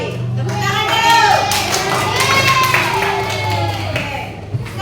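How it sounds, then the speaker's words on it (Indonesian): A class of sixth-grade children clapping together in a classroom, a steady mass of applause with some chatter and children's voices over it, lasting the whole stretch. "Baik, tepuk tangan dulu."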